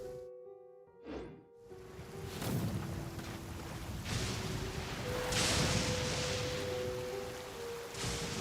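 Waverider boat gliding across open water in the video game Genshin Impact, a steady rushing wash of water and wind under a faint in-game musical tone, swelling and holding for several seconds with no talk.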